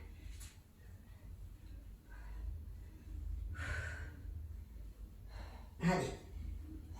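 Exhaling during an upper body strengthening workout, several audible breaths and puffs spaced a few seconds apart, close and fairly quiet, ending with a sharper sniff or snort, with faint voice sounds mixed in.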